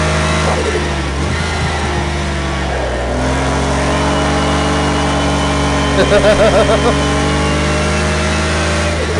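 A Porsche 959 on the Laguna Seca track in the racing game Project Cars 2 drones with a steady engine note that rises and falls through gear changes, under someone speaking throughout.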